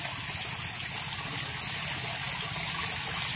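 Clear water pours steadily from a newly drilled, 33-meter-deep well pump near the seashore, making a continuous gushing flow that is close and even in level, with no talking.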